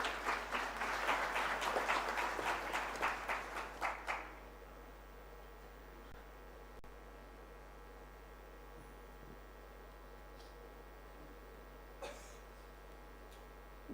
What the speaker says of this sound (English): Please give a huge round of applause to Srimati Nirmala Sitharaman.